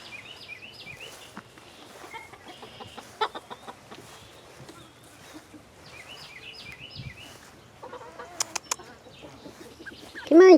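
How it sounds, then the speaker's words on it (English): Chickens cluck and chatter in a farmyard, with repeated bursts of rising calls and scattered pecking sounds over a soft background, and a louder squawk near the end. "You want to check out the chickens?"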